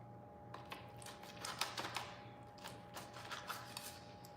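A knife slicing into barbecued pork ribs, quiet crisp cutting and crackling scrapes in quick irregular bursts, close and faint, without speech.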